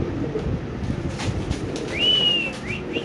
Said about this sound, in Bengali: এই কবুতরটা ইনশাআল্লাহ ইন্দোনেশিয়ান স্প্যানিশ কবুতরটা